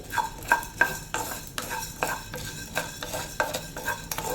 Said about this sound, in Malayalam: കൈ വിടാതെ ഇളക്കി കൊടുക്കണം കരിഞ്ഞു പോകരുത്